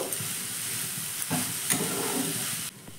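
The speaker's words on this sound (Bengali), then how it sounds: "ভালো করে আবার সবজিটা উপর নিচ করে নাড়াচাড়া করে নেব" Vegetables frying in a pan with vermicelli being turned over and stirred, a continuous close sizzle with occasional scrapes and clicks of the utensil, then cutting off abruptly near the end, no voices.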